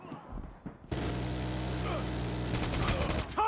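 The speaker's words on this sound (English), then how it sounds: "Friendly sentry gun deployed." A sentry gun in the Call of Duty Mobile video game opens fire in a rapid, sustained automatic burst that runs loud for a couple of seconds after a short quieter start, with faint voice chatter mixed in.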